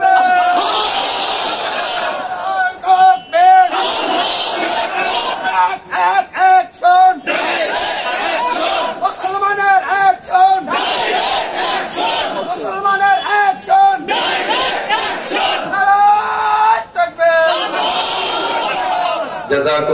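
A crowd at an Islamic sermon in Bangladesh chants the takbir, loud massed voices rising in repeated call-and-response bursts over about twenty seconds, with brief pauses between chants.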